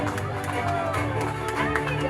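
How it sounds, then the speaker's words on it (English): A graduation-day audience applauds and cheers continuously, a dense steady wash of clapping from a crowd with no pauses. "Give a big round of applause"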